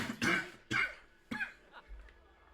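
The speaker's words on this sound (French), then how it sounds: "si je tousse, excusez-moi" Three sharp coughs, close and fairly loud, spaced about half a second apart, followed by a couple of softer throaty sounds.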